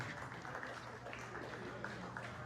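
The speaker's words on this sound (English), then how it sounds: "Give yourself a round of applause for being here and doing what you have done" Faint, steady applause from an audience at a Republican club candidate forum, a dense wash of clapping heard at a distance without any voice over it.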